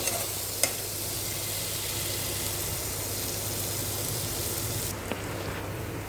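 Spices roast with black peas (kala vatana) in a pan, a steady, close sizzle and frying hiss that runs throughout, with a faint stir or scrape near the start and another near the end.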